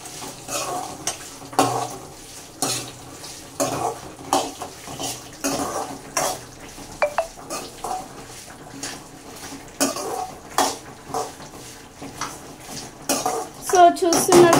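Gongura roti pachadi stirred in a pan, with repeated scraping and clanking of a spoon against the pan and a light sizzle, in irregular bursts throughout, close and moderately loud, with a voice talking over parts of it.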